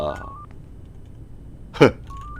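A telephone rings in the horror game Yuppie Psycho, short electronic ring tones sounding at the start and again near the end, with a sharp brief thump in between and no speech.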